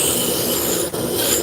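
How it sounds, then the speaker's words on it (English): A spindle gouge cuts a small, hand-supported wood piece spinning on a lathe, making a loud, continuous rasping scrape with a hiss and a brief dip partway through, with no talking. "Now we're going to switch from the roughing gouge to a spindle gouge"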